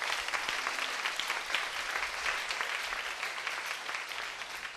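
A church congregation claps together during a sermon, a dense, even burst of applause from a room full of people lasting a few seconds, fairly faint and distant.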